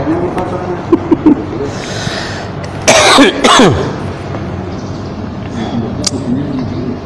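A man coughs hard a couple of times in the middle, close and loud, between stretches of his own talking.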